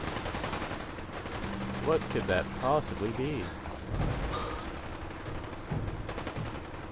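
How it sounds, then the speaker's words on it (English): Bursts of rapid gunfire in Fallout 4 crackle in the background while a person speaks over them, the shots fairly distant and intermittent. "I wonder what that gunfire is."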